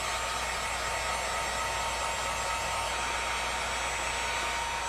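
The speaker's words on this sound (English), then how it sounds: "I am going to use a heat gun to help apply the graphics" A heat gun warming the plastic bodywork of a Honda 400EX ATV to lift off old graphics, giving a constant loud blowing whoosh with a faint whine, close and steady throughout without speech.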